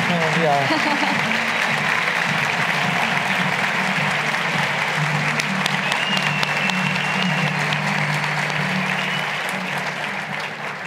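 Students and families at a convention applaud the speaker Tabata, a full, sustained round of clapping from a large audience that rolls on steadily before easing off at the end, with voices and music faintly beneath it.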